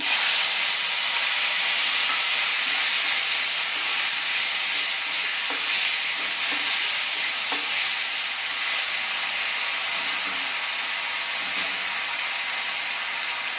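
Onion paste made from two large onions hisses steadily in hot oil for a Bengali jackfruit curry (echor kalia). The sizzle is loud and even from start to finish, with a few faint clicks and no speech.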